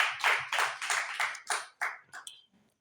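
A church congregation claps in unison, roughly eight or nine rhythmic, fairly close handclaps that gradually fade out and stop.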